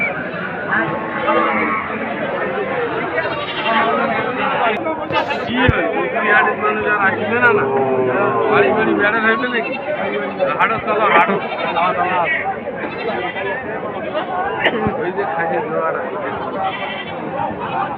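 Ram goats bleat over and over at a busy goat market in Ambari, with loud overlapping calls over a steady crowd murmur and people talking nearby.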